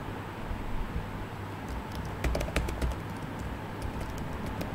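Someone types a name on a computer keyboard, a short run of soft, close keystroke clicks over steady background hiss.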